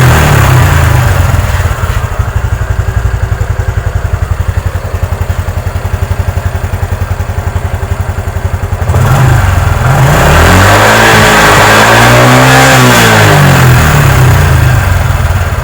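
CFT125MRCS motorcycle engine, a Honda XRM 125 motard, loud and close, revving under the throttle, with a steady high run that dips briefly and then climbs through several rising and falling revs.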